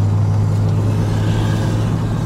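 A Chevrolet Corvette C3, freshly restored, drives on its first outing with a steady, loud low engine rumble and drone held throughout, with no voices over it.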